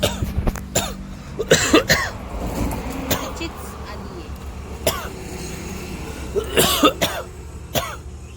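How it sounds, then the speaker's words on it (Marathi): Repeated coughing from a woman resting on temple steps during the Narmada Parikrama pilgrimage, several loud close coughs in bursts with outdoor background noise and occasional voices. "इतका खोकला येतोय ना, बाप रे बाप."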